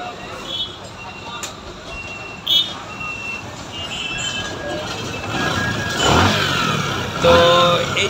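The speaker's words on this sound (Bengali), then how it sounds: "তো এই তো বাইকটির সাউন্ড আপনারা শুনলেন" A repaired Bajaj Discover 100 motorcycle engine idles and revs after a sound-problem fix, the motor rising in a couple of louder throttle bursts under nearby chatter and workshop noise.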